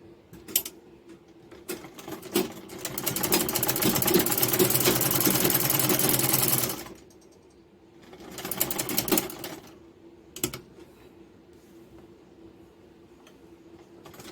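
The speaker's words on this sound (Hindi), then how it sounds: "इसकी किनारे किनारे सिलाई लगाएंगे" A sewing machine stitches along the edges of a Rajasthani door mat in a loud continuous whirring run of about five seconds, then a shorter burst, with scattered clicks and handling sounds in the quieter gaps.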